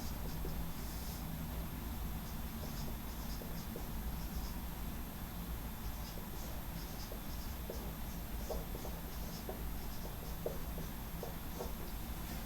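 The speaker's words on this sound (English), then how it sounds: "Let me write it down once again." A math equation being written out by hand during a lecture, faint soft scratching strokes and light taps in irregular bursts over a quiet room hiss, no talking.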